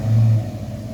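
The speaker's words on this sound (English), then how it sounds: "That has Flowmasters on it with brand new tailpipes on it." A 1993 Mustang SSP, an ex-North Carolina State Police car, rumbles at idle through Flowmaster mufflers, an H-pipe and new tailpipes, a deep, loud, steady low growl heard alone.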